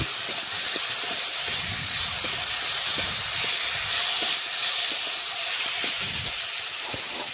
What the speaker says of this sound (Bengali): আবার একটু নাড়াচাড়া করে রান্না করে নিচ্ছি